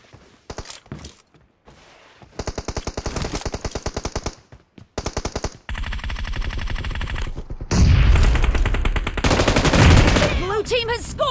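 M4 rifle fire in a mobile shooter game, loud, rapid automatic bursts in several long strings with short pauses between, building to dense overlapping fire with game voice announcements.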